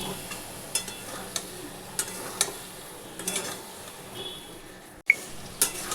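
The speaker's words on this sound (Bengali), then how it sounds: "আলুটা দিয়ে দিচ্ছি" Potatoes go into a pan for aloo dum with scattered soft clinks and taps of a utensil over a faint, quiet sizzle, ending with a sharper knock.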